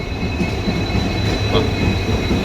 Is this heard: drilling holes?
no